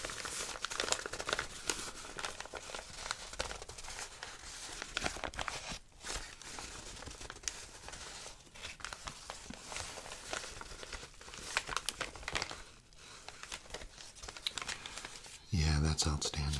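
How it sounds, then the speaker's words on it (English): Wooden Scrabble tiles shuffled and rummaged inside a well-worn cloth sack, producing steady soft clicking and crinkly rustling throughout, with a gentle voice speaking softly over much of it. "sack has been rummaged through an awful lot, but that's what makes it sound so nice"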